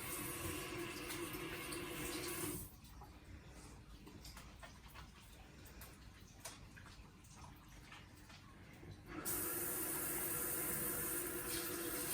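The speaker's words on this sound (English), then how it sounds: "I'm going to wash my hands one more time." A tap runs into a sink while hands are washed, a steady hiss of water that stops for several seconds in the middle and then starts again, faint and indoors.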